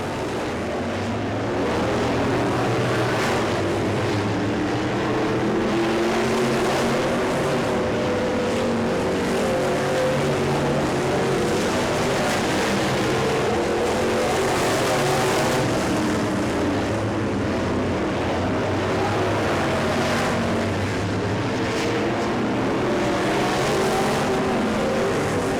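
Engines of B-Mod race cars roar continuously on a dirt track during the final lap of a heat race, a loud sustained drone that rises and falls as cars pass, with no talk.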